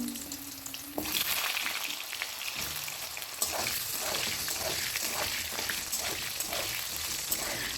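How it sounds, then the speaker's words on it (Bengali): Cut potatoes fry in hot salted oil with a continuous crackling sizzle, rising sharply as they go in and swelling again a few seconds later, close and steady throughout. "যতক্ষণ আলুগুলো ভাজা হচ্ছে"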